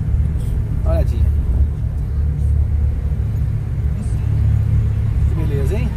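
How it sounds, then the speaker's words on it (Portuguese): A car drives onto the Guarujá–Santos ferry in São Paulo, a steady low engine rumble and road noise throughout, with faint speech and vehicle sounds over it. "Vou colocar o carro em cima da balsa agora."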